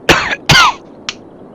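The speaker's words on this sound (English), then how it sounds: "coughing because it's a bit dusty" Two close, loud coughs from one person in a dusty loft, followed by a short, fainter throat sound.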